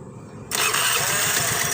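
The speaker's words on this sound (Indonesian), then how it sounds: "coba kita hidupkan motornya" A Honda Vario 110 scooter engine under repair for a no-start fault, silent at first, then cranks and fires at once into a steady, close, loud idle that holds to the end.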